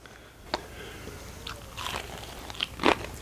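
A bite into crunchy biscuits baked in cast iron gives a few sharp crunches: one crisp snap early, a scattering of lighter crackles, then a louder crunch near the end, close and with no talking.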